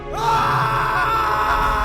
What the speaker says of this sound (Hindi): विकास डर के मारे चीख पड़ा